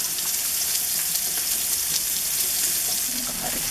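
Scallops sear in a hot pan with a constant, even sizzle and faint crackles throughout, close and fairly quiet.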